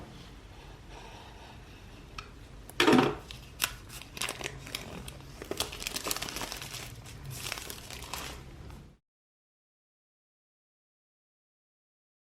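A small cardboard box for an Apple Magic Mouse 2 is slit open along both sides with a utility knife, giving a sharp crackle followed by a stretch of close crinkling and rustling handling noise.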